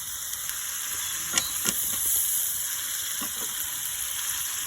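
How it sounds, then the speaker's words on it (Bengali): Prawns sautéing in a pan give a steady, fairly quiet sizzle and hiss, broken by a few brief scrapes and clinks of stirring. "চিংড়ি মাছগুলো দিলাম। মাছগুলো কষে নিলাম"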